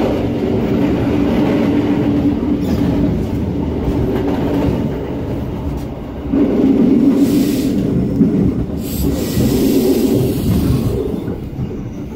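A train rolls near Passau main station with a steady loud rumble and rattle of wheels on the rails. The noise swells briefly midway and carries faint squeals and clacks, with no talk.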